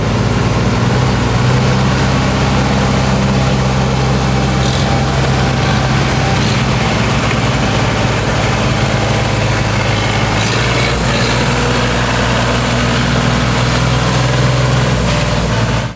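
A garden tractor engine runs steadily while the machine drives off-road through mud, giving a loud, continuous low drone with no pauses throughout.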